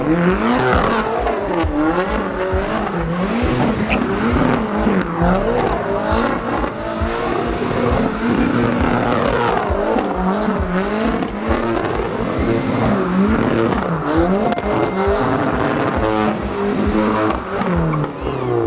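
Loud engine revving and wailing as a 260-horsepower Toyota GR86 drift car spins continuous donuts at a drift event in Ireland, tires squealing with rising and falling pitch throughout.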